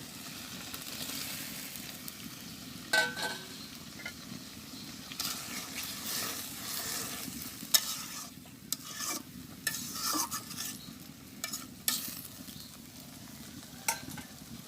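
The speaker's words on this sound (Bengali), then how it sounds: "তো দুধটা সুন্দর করে ফুটে উঠছে, আমি এবারে কচুটা দিয়ে দেবো।" Fried taro is stirred into boiling milk in a village kitchen. Quiet spoon scrapes and stirring knocks recur irregularly over a soft bubbling simmer, with no talk.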